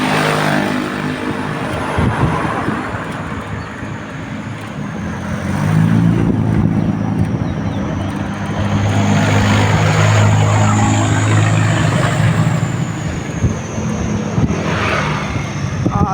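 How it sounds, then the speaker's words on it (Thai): Continuous rumble of vehicles on a rural road through rice fields, an engine swelling close by then easing away as another vehicle passes, steady and fairly loud. "รถเยอะนะคะ"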